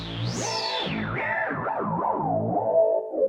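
A Yamaha Montage M8x synthesizer played with aftertouch, producing a bright, distorted, swooping tone whose pitch bends up and down in repeated arcs, loud and sustained with no talk over it.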